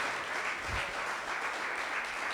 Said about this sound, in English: Let's please give her another round of applause.